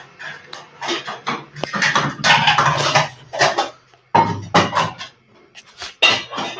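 Metal pots and utensils clank and clatter as they are fetched and handled in a village home, a busy run of loud, close knocks and scrapes with brief pauses between bursts.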